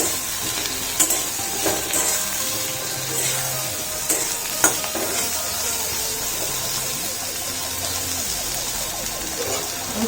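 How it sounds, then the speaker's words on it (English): Turmeric powder and salt frying in mustard oil with spine gourd pieces for an Indian vegetarian curry, a steady close sizzle broken by occasional spoon scrapes and stirring knocks against the pan. "I'll add little turmeric powder and salt. Cooking in mustard oil only."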